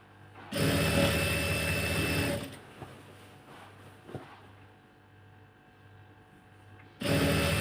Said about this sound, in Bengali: এটা এখন আমি আস্তে আস্তে রিল্যাক্সে সিলাই দিয়ে দিব পুরাটাই ঘুরিয়ে ঘুরিয়ে সিলাই দিতে হবে